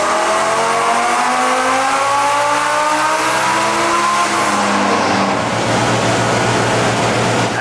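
Tuned car engine revving hard through a dyno power pull, a loud, close, continuous roar climbing steadily in pitch through the gears, with no voices.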